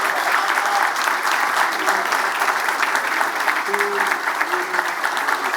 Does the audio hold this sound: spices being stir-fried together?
no